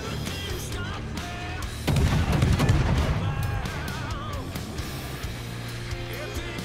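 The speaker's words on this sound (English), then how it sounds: "the guns on the Cossack are pretty good" Booming naval gunfire from the destroyer Cossack in World of Warships, a heavy salvo bursting near the two-second mark over a steady game ambience, with crackling aftermath and scattered game effects following.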